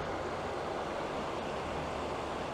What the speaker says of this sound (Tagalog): may narinig tayo agos ng tubig